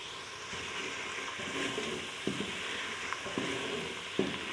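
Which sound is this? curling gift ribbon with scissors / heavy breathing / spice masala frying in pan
spice masala frying in pan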